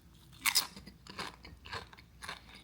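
Someone takes a crunchy bite of a sandwich with chips, then chews in close, crisp repeated crunches that come in a steady rhythm and gradually soften.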